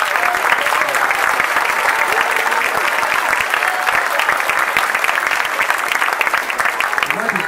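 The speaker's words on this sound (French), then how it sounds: "Alors on peut encore applaudir les enfants quand même" Warm applause fills a room for children after a Christmas choir concert, steady sustained clapping from an audience, with a voice speaking faintly beneath it.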